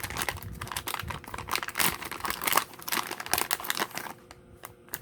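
Paper crinkles and rustles up close while junk journaling a mermaid-themed journal, with irregular crackling bursts and brief crunches trailing off into sparser handling noises.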